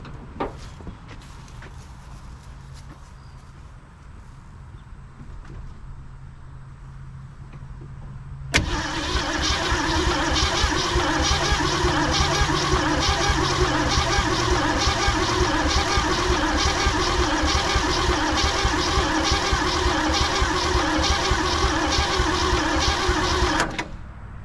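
A 1969 Ford Ranchero's V8 cranks roughly and catches after a quiet lead-in, then runs loud and steady at a fast idle for about fifteen seconds before cutting off.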